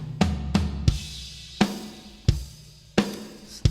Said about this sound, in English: So that's the sound of the parallel compressor